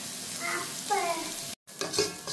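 Onions and tomatoes tempering in hot oil for a Sri Lankan fish curry, a continuous close sizzle with stirring, broken by a brief silent gap partway through.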